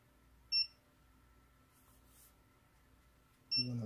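A Vifly Beacon drone buzzer in crash mode gives two short, faint, high beeps about three seconds apart, over quiet room hiss.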